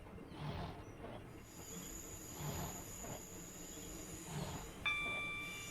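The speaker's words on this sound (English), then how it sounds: "We're stopping the train." A Networker electric train in a simulator game brakes to a stop at Faversham, with a steady low rumble, faint rhythmic wheel thumps and a brief thin squeal as it halts.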